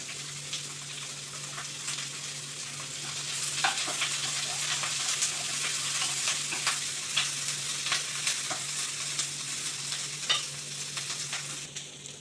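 Garlic and green chilli sizzle steadily in a hot pan, a continuous close frying hiss with occasional sharper pops and stirring clicks, no voices present.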